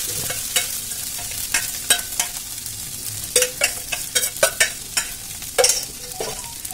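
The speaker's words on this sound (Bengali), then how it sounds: "এবার হালকা হাতে নেড়ে নেব।" Sago pearls (sabudana) stirred in a pan, a run of irregular scraping and rattling strokes of varying loudness, up close with no talk and a faint frying sizzle beneath.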